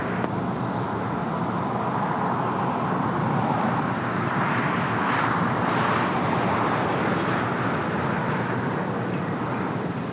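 An airplane landing on runway 25 left at LAX, a loud, continuous broadband engine roar that holds steady with a slight swell in the middle, heard from nearby.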